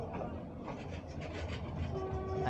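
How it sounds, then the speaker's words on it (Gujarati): A meter gauge train rumbles steadily close by as it enters Visavadar Junction, Gujarat, with a dense mechanical clatter, and a brief horn tone sounds near the end. "જંક્શનમાં એન્ટર થતી આપણી ટ્રેન"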